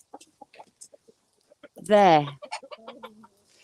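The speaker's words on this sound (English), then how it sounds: "Two broody hens arguing about eggs." Two broody hens squabble close by, scattered soft clucks and peeps building to one loud, drawn-out squawking protest before more short clucks; a person speaks a single word briefly.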